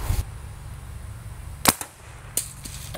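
A homemade PVC hairspray pistol fires a Civil War bullet at a milk jug outdoors, giving one sharp pop followed by a few fainter clicks and taps over a steady background hiss.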